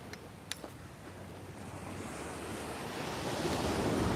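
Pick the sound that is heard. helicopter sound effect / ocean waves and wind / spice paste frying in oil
ocean waves and wind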